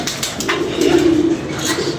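Pigeons coo from a rooftop loft, one soft rolling coo swelling in the middle over a faint background hiss, with a few quieter calls around it.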